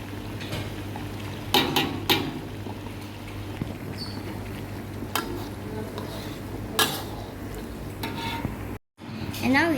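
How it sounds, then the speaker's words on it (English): Chili fries in oil for a mala hot pot base, giving a low continuous sizzle, with scattered sharp clinks and scrapes of a utensil against the pot. A brief silent break comes near the end. "We bit by bit put in the chili and we cook about 10 minutes like that"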